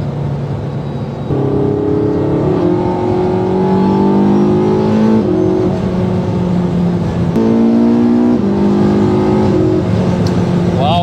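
A sports car engine pulls hard through several rising gears past 200, each upshift dropping the pitch before it climbs again, loud and steady throughout, heard from inside with the roof closed.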